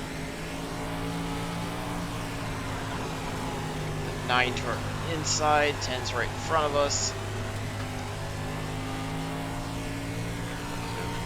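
Sprint cars in a DIRTcar 305 Fanatec Series sim race pull away together with a steady engine drone, a few sharper revving bursts rising mid-clip, while a commentator talks over it.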